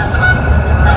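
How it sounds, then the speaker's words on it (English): Geese honking as they fly in during a spring hunt over open property, a loud, close, sustained nasal honk standing alone with no talk. "I got the geese coming in"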